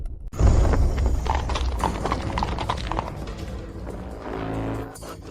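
Hooves of a ridden warhorse clopping in a quick, steady rhythm, close and fairly loud, continuing throughout with slight variation and a softer stretch near the end.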